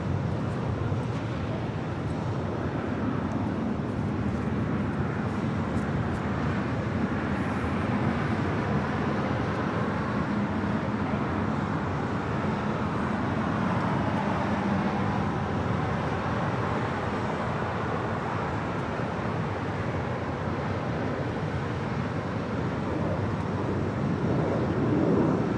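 A Spirit Airlines Airbus A321 arriving at LAX from Houston, Texas, makes a steady, broad jet roar that holds at an even loudness throughout, with no other sounds standing out.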